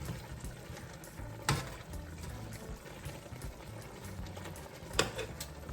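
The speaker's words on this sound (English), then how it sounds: "So now I'm gonna go in and add some water and allow it to cook." Water poured into a pot of pork braising in its own juices for a Jamaican stew, a steady low splashing pour with a couple of brief louder clinks, no talking.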